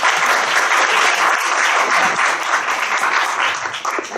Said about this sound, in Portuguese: eu gostaria de uma salva de palmas pela organização de toda a sua equipe